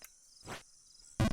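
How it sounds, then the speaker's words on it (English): Crickets chirp in a video game, Jump King, as a steady high insect trill under brief bursts of noise, then a sudden loud burst at the end. "Those crickets, dude, they're going ham."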